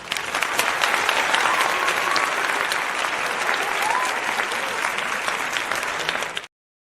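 A crowd applauds continuously for several seconds with dense, steady clapping that ends abruptly, loud and close, with no speech over it.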